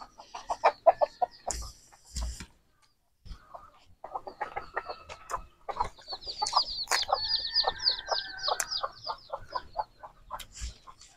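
Several chickens cluck and squawk close by in irregular bursts while being fed, with brief pauses, sharp higher calls mixed in, and no talking.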